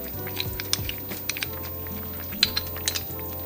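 Cornstarch and water being stirred together in a bowl, with repeated soft scraping strokes and a few small clinks against the side, up close and steady, backed by a low frying hum.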